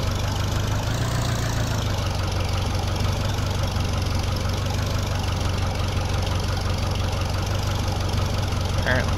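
A tractor engine in the video game Farming Simulator 2013 idles with a steady, even low rumble and a faint knocking texture, running on unchanged for the whole stretch.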